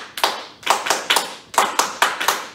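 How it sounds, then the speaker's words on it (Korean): Hands clap in a lively rhythmic pattern during a classroom lecture, in quick bursts of three or four sharp claps separated by brief pauses, close and clear with no talking. "저 따라서 한번 박수 쳐봐요."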